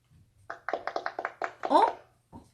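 A toy talking pen plays a short recording of hands clapping, a quick run of about eight crisp, close claps, followed by a brief voice.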